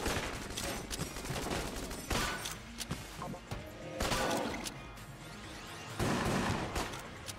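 Rapid, dense bursts of gunfire from the video game Enter the Gungeon rattle nonstop, with heavy blasts and crashing impacts layered into loud, overlapping volleys.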